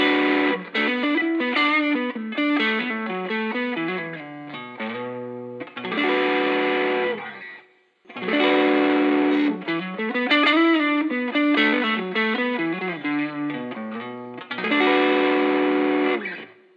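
Electric guitar played through an overdrive pedal, switching between a classic open vintage mode and a punchier mode with more headroom, heard as loud, sustained melodic phrases in bursts with short pauses between them, no talking.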